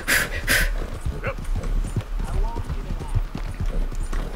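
Hooves clip-clop at a gallop from a horse in the open-world western game Red Dead Redemption 2, a steady rhythmic pounding under an excited voice, with a couple of sharp louder bursts at the start.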